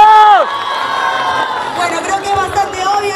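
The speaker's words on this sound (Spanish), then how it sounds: "Vamos a ver ahora los aplausos para Luis." A studio audience in Arequipa cheers and whoops for a dancer, a loud burst of crowd shouting and cheering that starts at full strength and then holds as a sustained roar with voices rising through it.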